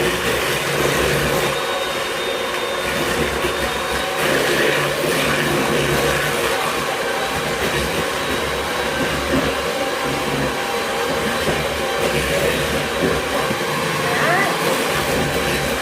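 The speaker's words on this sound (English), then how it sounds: "I'm just going to mix together the eggs and the sugar." An electric mixer beats eggs and sugar together for a cake, giving a steady, continuous whirring drone that runs unbroken from start to finish at close range.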